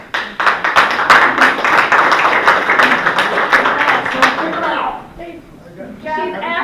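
Audience clapping at a town board public hearing in Hopkinton, New York: a burst of many hands lasting several seconds, then fading, with voices heard over and after it.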